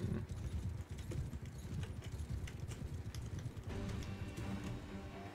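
Horse hooves clip-clop steadily at a quick pace in the video game Mount & Blade 2: Bannerlord, fairly quiet and even, with no talking over them.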